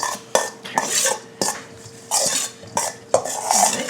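A spoon stirs and scrapes a seasoned sausage filling with black pepper in a bowl, giving several sharp clinks against the dish between bursts of rough mixing, close and clear.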